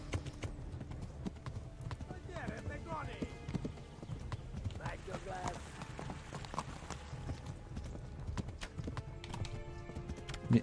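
Hooves clip-clop steadily as a horse runs in the video game Kingdom Come: Deliverance, with occasional whinnies, heard faintly under game ambience, music and someone talking.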